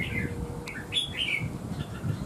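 Several birds chirp in short, bright bursts at a poultry show-pen setting, steady background hiss underneath, no talking.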